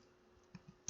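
A few soft keystrokes on a computer keyboard while entering a network switch command, three quiet clicks spaced unevenly within a second, close but faint.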